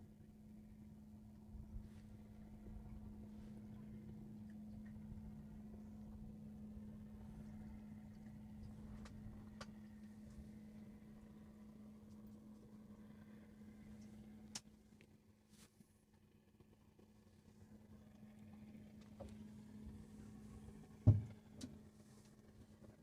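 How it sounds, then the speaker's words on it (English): A fishing boat engine on a catfishing outing drones steadily and faintly in the background, a constant low hum that runs the whole time, with a brief thump near the end. "boat's awful noisy for no reason."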